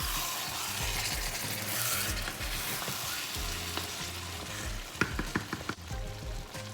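Beans and beef stir fry frying in a pan, a steady close sizzle throughout with a few sharp clicks and knocks near the end.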